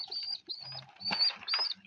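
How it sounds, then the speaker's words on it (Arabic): Domestic pigeons make soft, close chirps and faint cooing sounds in short bursts with brief gaps. "ده حمام بلدي"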